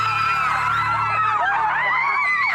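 Woman screaming in a comedy sketch, a loud, sustained, wavering shriek that rises and falls in pitch over a few seconds.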